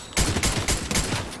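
Fortnite gunfire bursts in after a short quiet moment, then repeats as several loud, close volleys of shots that carry on steadily to the end.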